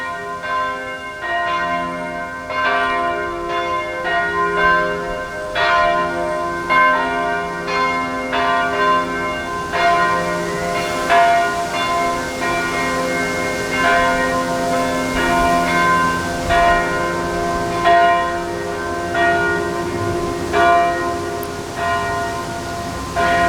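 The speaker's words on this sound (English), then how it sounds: "It's a nice sound with 3 bells." Three church bells ring together in a steady, overlapping peal, their tones sustained and resonant, loud and continuous throughout with no voices.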